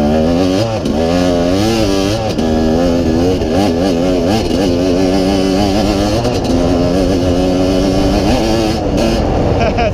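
A motorcycle engine revving at less than half throttle, loud and close, rising and falling in pitch through repeated throttle blips over a steady idle.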